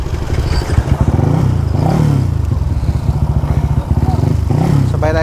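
Suzuki Raider FI motorcycle with a 68 mm bore kit revving nearby, a loud buzzy engine rising and falling in repeated pulls with some clatter, and voices mixed in.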